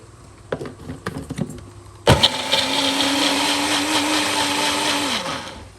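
A few clicks and taps, then a blender grinding chili and garlic whirs up loudly and grinds steadily for several seconds before winding down, close by.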